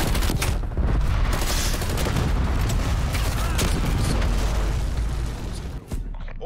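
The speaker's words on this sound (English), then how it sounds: "Cruise missile inbound." A cruise missile strikes in the video game Call of Duty Cold War. Booming impacts and rattling gunfire form a loud, continuous barrage that cuts off abruptly near the end, with voices mixed in.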